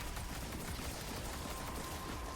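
A Hunter's Blade Barrage super unleashes in Destiny as a dense, continuous wall of explosive, crackling noise that stays loud and unbroken throughout.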